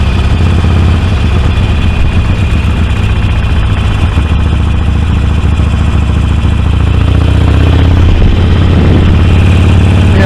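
Loud, continuous low rumble of a Harley-Davidson Sportster 48 engine running steadily close by, with wind noise over the throbbing exhaust.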